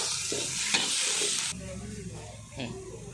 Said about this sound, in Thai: ใส่น้ำนิดนึงค่ะ ให้เพื่อให้เนื้อสัตว์มันสุกค่ะ